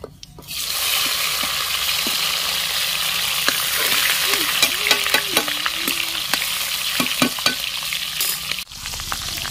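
Tomatoes fry in a pan over a village cooking fire, a continuous loud sizzle with scattered stirring clicks and scrapes, steady throughout before a brief dip near the end.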